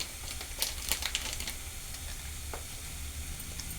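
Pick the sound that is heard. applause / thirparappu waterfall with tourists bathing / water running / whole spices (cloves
whole spices (cloves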